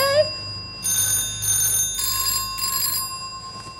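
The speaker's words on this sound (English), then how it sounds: "Pick up the phone." A landline telephone bell rings loudly indoors in several rapid bursts, clangorous and metallic, each lasting under a second, with a brief voice sound at the start.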